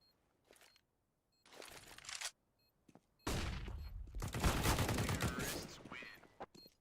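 AK rifle fire in an esports shooter match, several bursts of rapid gunshots separated by short silences, building to a longer, louder barrage with a few trailing shots.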